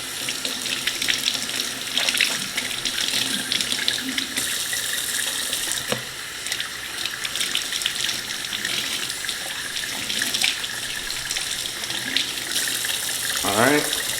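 Tap water runs steadily into a sink to wet the mop pads of a Samsung Jetbot Mop robot, a constant close splashing gush lasting throughout with small shifts as the pads move under the stream, a voice briefly audible.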